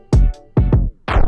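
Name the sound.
record stop effect on a beat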